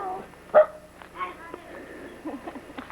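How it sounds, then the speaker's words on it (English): A pooch in a village setting gives a single sharp bark followed by a few softer yips and whimpers, fairly close, mixed with background voices and ambient noise. "And the ever-present pooch."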